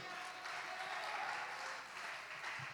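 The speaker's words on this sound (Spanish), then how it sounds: "Usted puede, si es para el Señor, aplaudirlo con fuerza" A congregation claps during a Spanish-language church sermon, faint and distant, in a steady patter of applause with a voice faintly audible beneath it.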